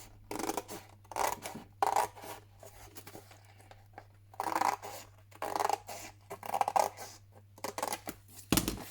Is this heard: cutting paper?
yes